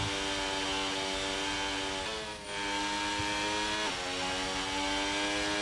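Ferrari race car engine in a racing video game at a Japanese circuit, a loud continuous high-revving roar with a couple of quick gear-change dips, no talking.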